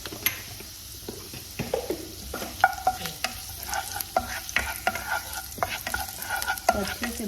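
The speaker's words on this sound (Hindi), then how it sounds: "अच्छे से भूनें." Whole spices with black cardamom roasting in a hot pan for kala chana chaat, a spoon scraping and stirring in steady strokes over a soft continuous sizzle, close and fairly loud with no talking.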